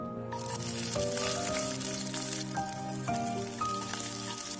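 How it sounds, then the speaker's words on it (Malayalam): Mustard seeds, dried chillies, ginger and garlic fry in coconut oil for a South Indian tomato rasam, giving a steady crackling sizzle that runs unbroken beneath gentle background music. "പിന്നെ നമ്മൾ ചെറുതായിട്ട് അരിഞ്ഞു വെച്ചേക്കുന്ന ഇഞ്ചിയും വെളുത്തുള്ളിയും കൂടെ നമുക്കൊന്ന് മൂപ്പിച്ചെടുക്കാം."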